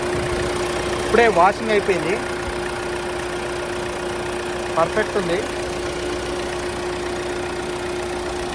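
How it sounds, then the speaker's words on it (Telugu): A 2015 Ford EcoSport diesel idles with a steady, even hum, running continuously beneath two short bursts of someone talking. "ఇంజిన్ మాత్రం ఎక్సలెంట్ ఉందండి బండి చాలా సైలెంట్ ఉంది"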